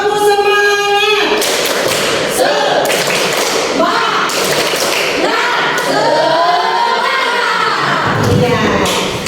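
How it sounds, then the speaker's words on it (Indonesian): Schoolchildren in a classroom perform a rhythmic group clap, bursts of claps and thumps in a patterned sequence mixed with chanting voices, loud and close. "Satu, dua, tiga, tepuk semangat."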